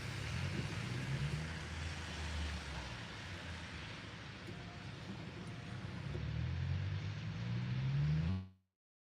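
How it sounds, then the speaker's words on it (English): Car driving slowly around a snowy parking lot during a blizzard, a low steady engine hum and road rumble heard from inside the vehicle, faint and continuous until it cuts off. "driving around a snowy parking lot"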